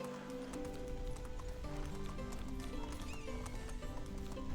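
Horse galloping in the Medieval Dynasty video game, a steady rapid clip-clop of hooves running continuously under game music, with faint voice in the background.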